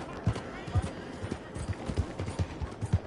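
Horse hooves clip-clop in a quick, uneven rhythm nearby, a short run of sharp thuds at moderate volume, with faint voices in the background.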